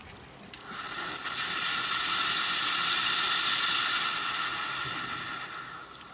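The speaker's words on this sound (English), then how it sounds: "I'm going to just pour some cold water on top of it for the pressure to be released." Cold water poured over a hot pressure cooker lid makes a sustained rushing hiss of water and steam that swells after a brief click, holds steady for several seconds, then tapers slightly.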